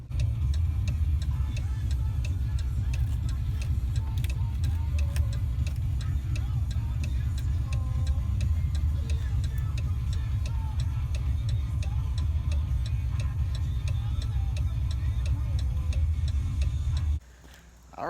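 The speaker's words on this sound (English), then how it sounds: "I'm gonna drive now." A car driving along at an even pace, its engine and road noise forming a steady low rumble through the whole stretch, with a regular ticking from inside the cabin laid over it.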